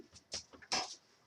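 A dog named Holly whimpers in a few short, thin, high cries with soft breathy pants between them, quiet and close, with no talk over it.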